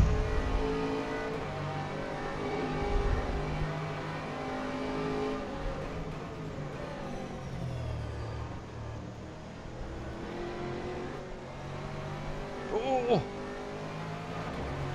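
GT3 race cars roar around Monza in a racing video game, engines droning and shifting pitch through a continuous pass, with a brief tire squeal near the end and a voice talking over the action.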